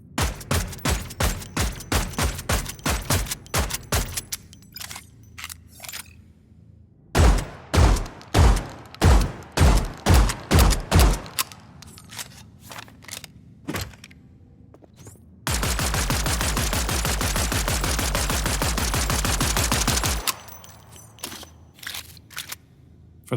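Redesigned weapon fire from the Lyra Starter Game shooter, built in UE5 with Wwise: rapid bursts of close, punchy shots with mechanical layers and shell sounds, broken by short pauses and ending in one sustained dense stretch of fire.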